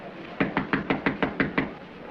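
A run of seven sharp knocks on a door in a 1937 film, evenly spaced and fairly close, with no talk over them.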